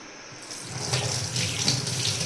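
Tap water runs steadily into a sink while something is rinsed clean in a home kitchen, a continuous close splashing stream with no talk over it.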